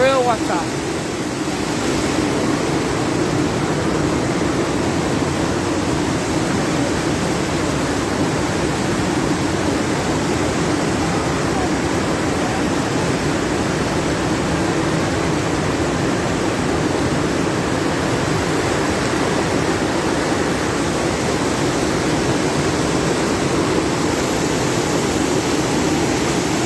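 Floodwater from an overflowing river in Grenada roars in a loud, steady broadband rush that fills the whole clip without a break, like a torrent or waterfall close by.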